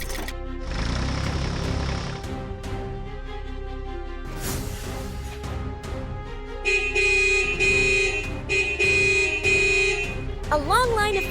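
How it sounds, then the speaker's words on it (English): Cartoon-style vehicle horns honk impatiently in a long line of traffic jammed at a construction site, repeated toots and blaring honks layered over music and effects, loudest in the second half. "A long line of vehicles honks impatiently."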